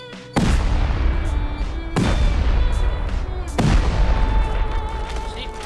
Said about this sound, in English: if you want to get through the doorway, smack down 3 C4